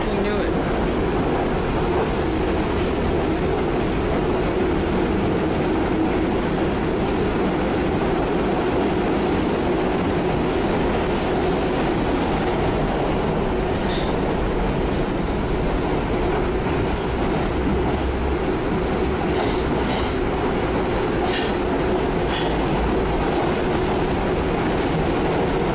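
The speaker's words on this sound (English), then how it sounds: "My train is going backwards." Passenger train running on rails, heard from on board as a loud, continuous rumble with faint clicks. Voices can be heard underneath.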